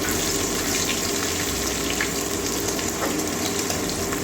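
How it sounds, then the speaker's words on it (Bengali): Chopped onion frying in a pan with tempered Kashmiri red chilli, green chilli and cumin, a dense continuous sizzle with a wet, hissing edge, heard close up without any talking. "ভালো করে পেঁয়াজটা ভেজে নেবো"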